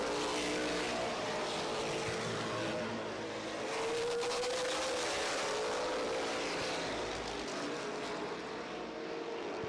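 Race cars lapping during a feature race give a loud, continuous engine roar that rises and falls slightly as they circle, with no talk over it.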